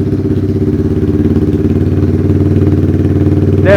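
A Kawasaki Z125 fitted with a Yoshimura exhaust fires up cold inside an echoey shop, its loud, deep, steady rumble filling the room up close with no talking.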